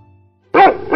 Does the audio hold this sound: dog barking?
yes